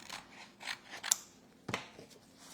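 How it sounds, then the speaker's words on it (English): Small craft scissors snip through paper in a few quiet, close cuts with crisp little clicks and pauses between them, heard on their own. "Forgot to get my big scissors out, so I'm using my little, I feel like these are little kitty craft scissors"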